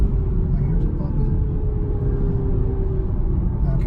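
Cabin view of a 2020 BMW M340i engine on a downshift: a loud, continuous low rumble with a faint shifting engine tone underneath, steady throughout.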